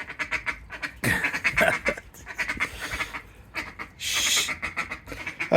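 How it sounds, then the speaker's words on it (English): A goose in a garden honks again and again in short, nasal bursts, fairly close and moderately loud, with quieter gaps between calls. "So this is the goose."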